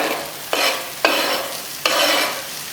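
Chopped onion tipped in three batches into a pan of frying masala-coated okra (bhindi), each drop setting off a sharp, loud burst of sizzling that slowly eases off before the next.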